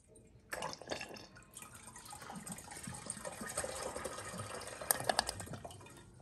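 Water trickling and dripping in a fully functional miniature toilet flushed with its refill pump switched off, a steady light splashing flow with a few sharper drips near the end.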